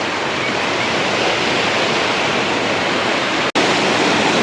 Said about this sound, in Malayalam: എന്താ അതിൻ്റെ ഒരു പവർ നല്ല പവറാട്ടോ വെള്ളം